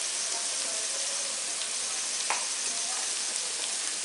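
Pasta boiling in a pot of salted water gives off a steady, dense bubbling hiss that stays even and close throughout, with no voices.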